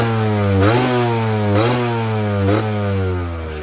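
A 1988 Yamaha DT50 LC motorcycle, a restored vintage two-stroke dirt bike, revs loudly and close up in three quick rising blips over a steady buzzing engine note.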